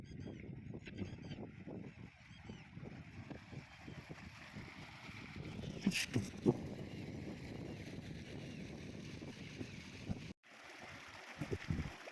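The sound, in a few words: water flowing in a full irrigation channel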